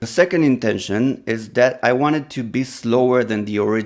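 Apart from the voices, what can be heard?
No distinct noise like a dog, phone or traffic.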